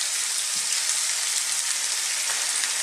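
Potatoes, onions and spices fry in a pan over above-medium heat for a vegan potato and bell pepper curry, giving a steady, dense sizzle that hisses evenly throughout with no pauses.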